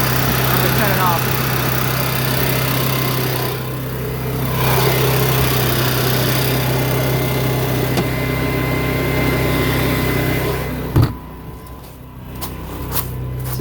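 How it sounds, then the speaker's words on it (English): Small RV generator engine running steadily at close range, a constant droning hum throughout, with a brief knock and some handling noise near the end. "So the generator runs pretty good."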